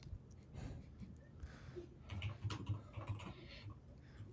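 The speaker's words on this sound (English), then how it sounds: "They're typing in." Clicky keystrokes from people typing on a computer keyboard, a scattered run of light taps partly masked by low room rumble and faint voices in the background.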